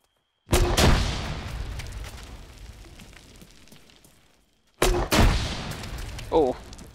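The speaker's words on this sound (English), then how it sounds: "Let him shoot a grenade in there." Two loud, close grenade blasts in Arma 3, each a sharp boom rolling into a long decaying rumble, separated by a few seconds, with a short burst of gunfire after the second.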